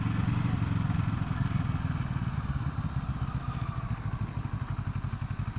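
A CFMOTO 650NK motorcycle runs close by with a steady, throbbing mid-range engine drone and a faint rattling clatter. The rumble eases slightly toward the end, and there is no talking.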